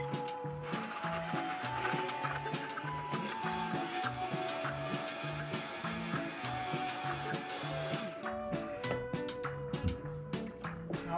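A blender runs at full speed on cashews for a cashew sour cream, giving a moderate mechanical whir with a repeating pulsing rhythm. The tone shifts partway through as the load changes.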